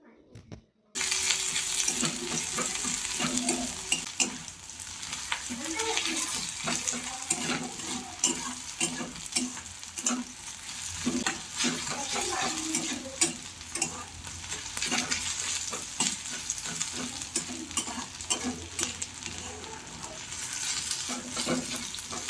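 Onions frying in a pan while being stirred, a continuous crackling sizzle with repeated scraping and clinking of the spoon throughout, close and without speech.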